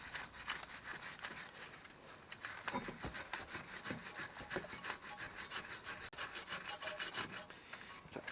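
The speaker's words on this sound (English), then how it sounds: "Let's just clear some of the crud off the caliper itself." Steady rhythmic scrubbing strokes on the crud-coated brake caliper of a 2011 Vauxhall (Opel) Zafira, close and fairly loud with a dry, rasping texture and no talking.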